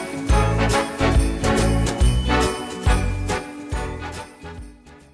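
Festive Christmas background music for a Java countdown program, with jingling bells and bright tinkling tones over a bouncy bass line, steady and loud, fading slightly toward the end, with no talking.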